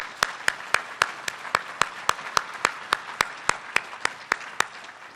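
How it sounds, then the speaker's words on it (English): A small audience at a tech conference gives the governor another round of applause, sounding as sparse, evenly spaced individual claps in a steady rhythm, fairly close and moderately quiet with no talk. "We should give the governor another round of applause"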